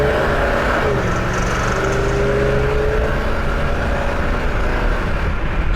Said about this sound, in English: Strong acceleration